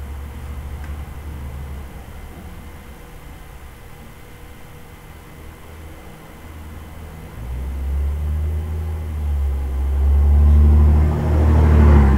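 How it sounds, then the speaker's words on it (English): Road traffic passes outside, a steady low rumble that swells louder toward the end as larger vehicles go by, with no talk over it. "Traffic starting to pick up outside."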